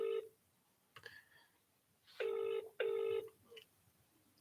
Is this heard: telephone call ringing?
yes